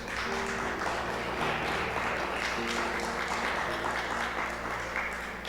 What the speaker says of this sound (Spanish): Dando un fuerte aplauso a Dios.